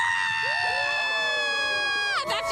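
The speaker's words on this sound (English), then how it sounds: "One more cheer." A crowd at an outdoor community event cheers and whoops, with shrill voices and children shouting, the noise swelling loudly and then cutting off near the end.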